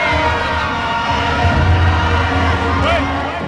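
DA supporters at a rally in Dobsonville Stadium raise a loud, continuous roar of cheering and whoops from a large crowd, with a voice talking over it.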